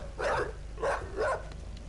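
Three evenly spaced barks from a dog in The Witcher 3: Hearts of Stone, each short and fairly loud, with a quiet game background between them.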